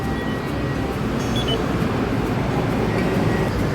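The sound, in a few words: electric train departing station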